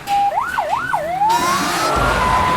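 An ambulance siren wails close and loud, sweeping up and down in quick swoops before settling into a long rising tone, with a vehicle engine and road noise underneath.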